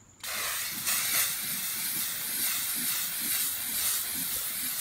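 A steady, continuous hiss of a green spray paint can on a rolling tray, starting abruptly after a brief pause and running unbroken at close range.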